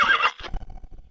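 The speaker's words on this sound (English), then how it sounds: "Another horse has been run to exhaustion." A single horse whinnies loudly and close for a moment, the neigh fading into scattered rustling and movement noise, with no talking.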